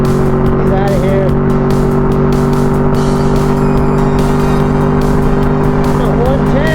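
A Yamaha FJR1300 sport-touring motorcycle cruises at highway speed, its engine a loud, steady droning hum under constant wind roar, with a voice faintly mixed in.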